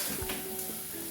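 Soft, steady sizzle of red onion frying in oil in a pan, heard alone with faint stirring.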